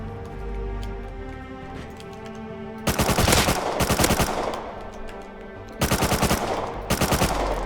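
Automatic rifle fire in the survival game Rust, an assault rifle battle near a ridge: two loud clusters of rapid shots, each followed by more bursts, over a low ambient hum, with no voices.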